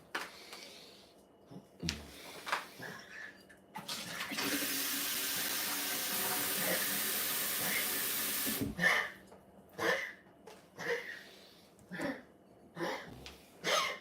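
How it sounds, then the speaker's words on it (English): Tap water runs into a pet's water bowl as one steady rushing stream that lasts several seconds. Clunks and handling noises come before and after it. "Let me give her some fresh water."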